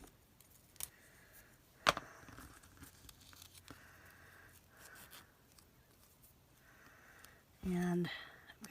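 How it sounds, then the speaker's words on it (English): Scissors snip a frayed ribbon end on a handmade birthday card: a couple of quiet, brief cuts spaced seconds apart over faint room noise, with a louder rustle near the end. "I've got a ribbon fray there that's driving me crazy, so I'm going to trim that off just a little bit"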